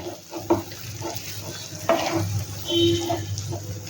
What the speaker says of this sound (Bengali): এবার এটাকে ভালো করে সাঁতলে নেব